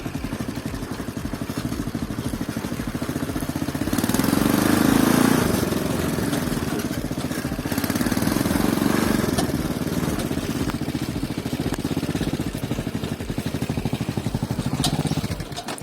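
A quad bike ATV engine runs steadily close by, a continuous rough mid-pitched drone that swells louder in the middle as it revs, then settles back to a constant hum.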